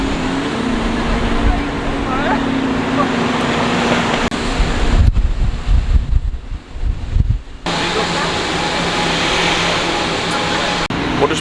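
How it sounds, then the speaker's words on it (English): Wind gusts through a dark tunnel under the rock of Monaco, a loud continuous roar with a traffic-like rumble beneath and a sudden quieter, choppier stretch in the middle before the roar returns. "Quite dark and windy in here."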